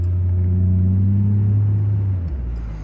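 1990 Jaguar XJS convertible with a 12-cylinder engine while driving, a loud smooth low hum that holds steady, then drops away as the car eases off, with no talking.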